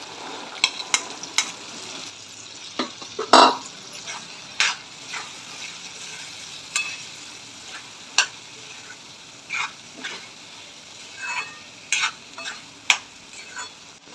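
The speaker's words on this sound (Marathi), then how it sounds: "आता मसाल्यामध्ये आपण चणे टाकून घेऊया।" Chickpeas are stirred into frying masala in a pan, with a soft sizzle underneath and sharp, irregular scrapes and clicks of the spoon every second or so, one louder scrape standing out.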